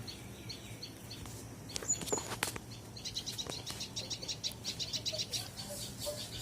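Faint high chirping from a tiny tailorbird chick, sparse at first and then a quick run of repeated tweets, over a soft, steady outdoor hiss.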